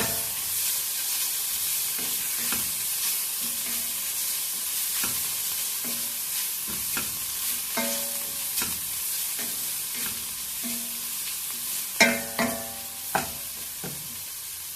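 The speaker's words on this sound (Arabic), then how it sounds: "نزيدو عليهم الكروفيت ونشحروا حتى هو" Shrimp sautéing in a pan for a prawn and periwinkle soup, a steady bright sizzle with stirring scrapes and clinks of a utensil recurring throughout, louder knocks near the end, no talking.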